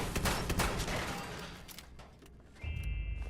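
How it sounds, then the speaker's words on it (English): Shots from a double barrel shotgun in the video game Fallout 76 fire in a rapid burst of booming blasts that fade into a rumbling tail, followed by a low rumble and a thin tonal hum near the end. "So this double barrel shotgun has 8 in the tube."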